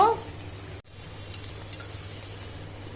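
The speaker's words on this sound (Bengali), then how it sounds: "এখন নাড়াচাড়া দিয়ে নিব, একসাথে মিশিয়ে নিব ডিমের সাথে।" Fried rice with fried eggs is stirred and mixed in a pan, a low steady scraping and faint sizzle running throughout with a brief dropout near the start.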